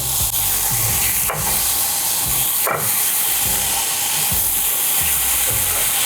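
Chicken sizzles loudly in a pan of rendered bacon fat, a dense, constant hiss and crackle up close, broken by a few sharp spatters and faint utensil scrapes.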